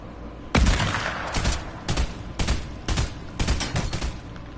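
Gunfire in a PS4 shooter game aimed at the player: a loud opening shot followed by a run of about six sharp bursts at irregular intervals, close and punchy, with no talking.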